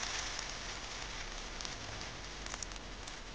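Rice and mixed dal appe batter sizzling in hot oil in an appe pan over a medium flame: a dense, continuous crackling hiss, steady and close, with no voices.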